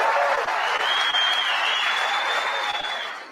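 Studio audience applause at a political debate event, a dense sustained clapping crowd that holds steady and then begins to fade at the end.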